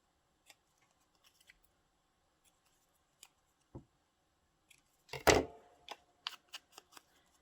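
Scissors snip through a journaling card made from an index card, a handful of short crisp cuts with a louder burst of snipping midway, close and quiet with no talking.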